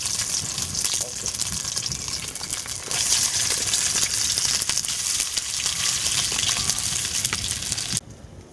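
Sausages fry in a pan at a wild camp in the woods, a loud, dense, crackling sizzle that swells about a third of the way in and then drops off sharply near the end.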